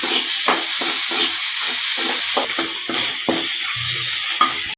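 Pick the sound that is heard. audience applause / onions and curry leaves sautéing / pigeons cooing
onions and curry leaves sautéing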